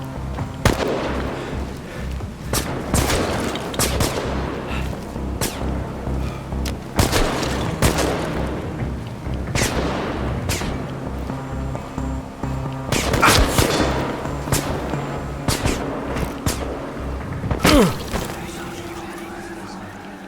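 Gunshots in the horror game Chernobylite, a series of sharp loud bangs scattered irregularly with booming reports over a low ambient rumble, with voices talking between shots.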